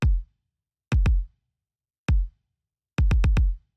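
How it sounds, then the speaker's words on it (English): Layered kick drums for an 80s-style pop song, one adding high-end presence and one carrying the low end, strike together as solo hits, a quick pair, then a rapid run of four, punchy and close. "So then together, just the kicks, it sounds like this."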